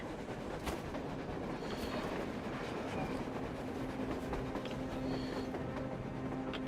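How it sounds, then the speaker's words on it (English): A train passes on the surface in the video game Metro Exodus, a steady dense rumble with faint rail clatter, continuous and moderately loud throughout with no talk. "A train! A damn train on the surface!"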